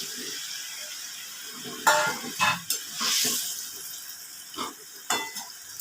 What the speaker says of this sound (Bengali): এবারে আমি আগে থেকে ভেজে রাখা মাছগুলো এর মধ্যে দিয়ে দেব।